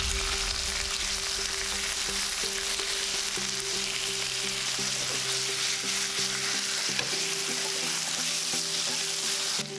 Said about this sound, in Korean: 야채들이 익으면 차돌박이를 넣고 고기를 익혀주세요